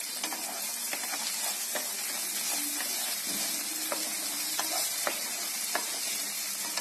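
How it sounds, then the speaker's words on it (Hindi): Fried vegetables being stirred with a teaspoon of tomato ketchup in a pan for a paneer roll filling, a steady close sizzle with repeated spoon scrapes and light clicks, no one talking. "तो अब मैं इसमें टोमेटो केचप डाल दूंगी 1 टीस्पून। और टोमेटो केचप डाल के हमें अच्छे से मिक्स कर लेना है।"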